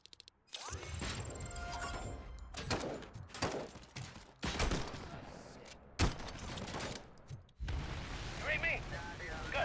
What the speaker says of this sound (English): A grenade launcher, sorry.